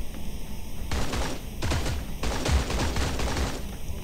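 Rapid bursts of AK rifle fire crackle in the shooter game Creative Destruction, three loud fully automatic volleys separated by short pauses, close and harsh with no talk.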